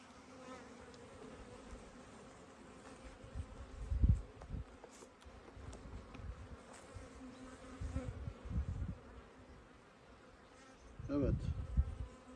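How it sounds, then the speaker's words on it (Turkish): Honeybees buzz around an opened hive. The humming is soft and constant, with a few closer, louder swells as single bees pass near, and faint handling noises sound in the background. "Şimdi buna da kekimizi vereceğiz."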